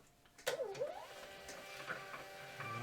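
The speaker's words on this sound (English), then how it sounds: "Now it comes printing out." A small printer feeding out a shipping label, a faint whirring, mechanical run with a few clicks, heard quietly and alone.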